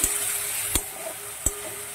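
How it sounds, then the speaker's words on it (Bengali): Jackfruit frying in a pan with cumin, ginger and chilli paste, stirred with a steady hiss and two sharp scrapes of the spoon against the pan. "জিরে, আদা, লঙ্কা বাটা দিয়ে ভালো করে এটাকে নেড়ে চেড়ে নেবো একটু।"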